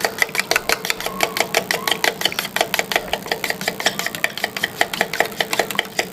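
Black pepper, cumin, red chili and turmeric being mixed for chicken jalfrezi, a utensil clattering in fast, even strokes against a bowl, close and steady with no pauses.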